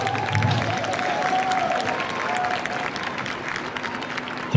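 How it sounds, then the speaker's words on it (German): Steady applause from an ice rink crowd greeting an ice dance pair of Austrian junior champions before their Charlie Chaplin free dance, a continuous even clatter of clapping filling the arena without pause. "Applaus!"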